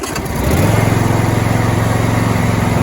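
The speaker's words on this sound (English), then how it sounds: "let's go ahead and fire up the mower deck, and I'll show you" A John Deere Z525E zero-turn riding mower's engine rises in revs as the mower deck engages. It settles into a loud, steady, close-up drone with a buzzing, throbbing tone.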